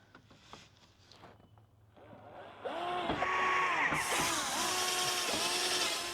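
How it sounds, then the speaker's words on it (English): Power drill boring bolt holes into the body of a Hyundai i30 N, starting with quiet handling noises before a loud, steady whine with a rising pitch that runs continuously up close. "I can go through and drill in the holes for the actual bolts to go through"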